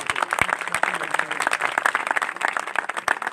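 A church congregation applauds loudly and steadily, dense clapping from many hands filling the whole stretch without pause.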